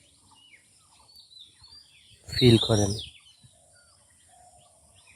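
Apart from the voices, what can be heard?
birds chirping by a lake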